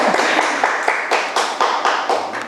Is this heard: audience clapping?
yes